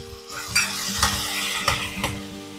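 Spices with tomato and ginger-chilli paste sizzling in an oil tempering for a brinjal-potato curry after a splash of water, a soft steady hiss broken by a few spoon scrapes against the pan.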